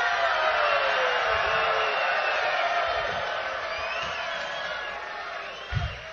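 Large political rally crowd in Warwick, Rhode Island roaring and cheering continuously, a dense far-spread mass of voices with whoops, staying loud throughout before easing slightly near the end.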